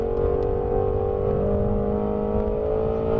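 A Ford Mustang Shelby GT350 on a race track roars at high revs, a dense, steady engine howl heard loud and close for the whole stretch with no speech.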